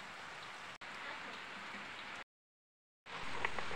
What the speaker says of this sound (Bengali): তাহলে বৃষ্টি হচ্ছে